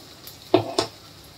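Masala chole ingredients roast in a pan, stirred with two quick, close scraping strokes over a faint, low sizzle.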